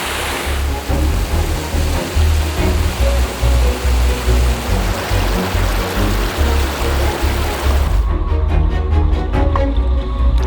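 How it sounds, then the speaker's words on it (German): A small waterfall in Iceland rushes loudly and steadily, a dense, continuous roar of falling water heard up close with no voices. "Es gibt auch kleine Wasserfälle."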